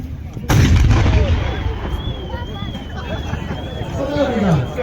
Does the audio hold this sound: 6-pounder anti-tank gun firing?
yes